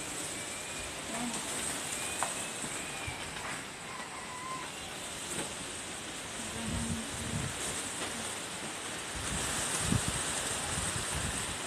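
Strong typhoon winds from Typhoon Rolly under a Signal No. 4 warning in Silang, Cavite, Philippines, on 1 November 2020: a steady broadband roar with gusting surges, some scattered rattles and thumps, and no speech.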